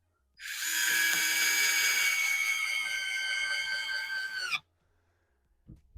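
A WORX WX242 4 V cordless screwdriver whines steadily for about four seconds while driving a screw into end grain, close and even-pitched, then stops abruptly, followed by near silence and a couple of faint knocks.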